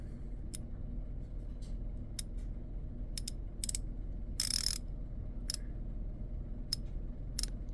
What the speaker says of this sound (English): The flip lever doesn't have like a snap like other ratchets do.